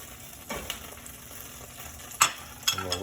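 Butter melts and sizzles in a hot pan, giving a low steady frying hiss with a few small crackles and a scrape or two, close and fairly quiet, with no talking.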